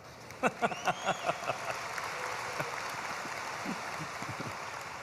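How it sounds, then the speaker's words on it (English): Applause from an audience at the University of South Alabama's 2022 fall commencement, opening with a handful of distinct, rhythmic claps that merge into a steady, moderate wash of clapping across the hall. "I'll take an applause for that."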